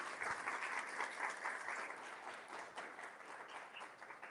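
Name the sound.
audience applause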